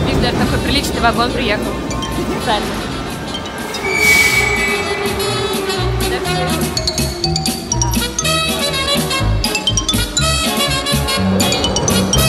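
A metro train car pulls into a Moscow station with loud rumbling, rhythmic clacking wheels and a high squealing brake whine, while people talk nearby over the noise.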